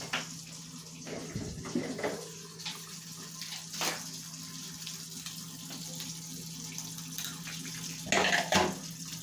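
Ice cold water runs and pours in a home kitchen, a steady soft rushing stream with a few louder splashes near the end, alone with no talk.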